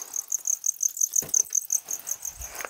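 A feeder cricket chirps inside a tarantula enclosure, a quiet run of about fifteen evenly spaced high trills repeating in a steady rhythm, with faint handling noises and a soft thump partway through.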